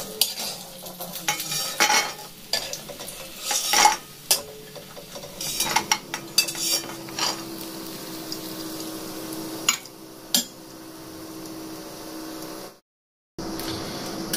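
Fried lentil dumplings (bori) are scooped out of hot oil in a home kitchen, with a spoon scraping and clinking against a metal pan over a soft, steady sizzle. A short silent gap comes near the end.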